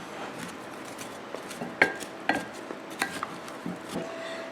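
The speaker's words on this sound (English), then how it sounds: "I'm going to give this just a light little mix." Seasoned diced potatoes with salt, minced garlic and parsley are lightly mixed in a pan, giving a few soft scattered clinks and scrapes over a quiet kitchen hum.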